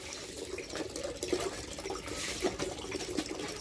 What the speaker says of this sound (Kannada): ನೀರು ನೋಡ್ರಿ ಈಗ ಟಾಕಿಗೆ ಬಿಟ್ಟಿವಿ ನಾವು